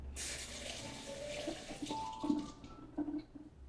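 Tap water runs steadily over a patty pan squash being rinsed under a kitchen faucet, a continuous close splashing hiss with small shifts in flow as the squash is turned.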